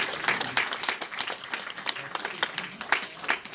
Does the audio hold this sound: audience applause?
yes